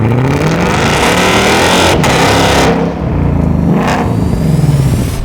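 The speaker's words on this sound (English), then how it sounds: "The cross-plane crank V8 of the Gt500 revs extremely high and has a supercharger on top, cranking 760 horsepower." Loud, close revving of a Ford Shelby GT500's supercharged 760-horsepower cross-plane V8, with the engine climbing high through the revs, dipping briefly between gears, then pulling hard again.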